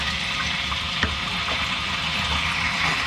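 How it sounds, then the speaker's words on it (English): Water streams from a hose aboard a sailboat, a steady, close rushing and splashing flow that holds constant throughout with only a small knock partway. "Now as you can see, it's obviously streaming from the hose."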